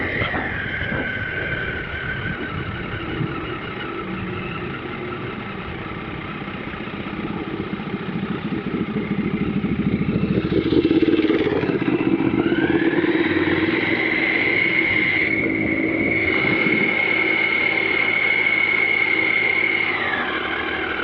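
A Honda CL500 motorcycle under way, its engine droning steadily before the throttle is opened and the note rises and holds higher, with wind rush throughout.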